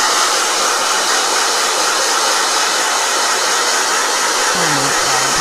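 A blow dryer runs steadily and loudly at close range, a constant airy roar with no pauses throughout.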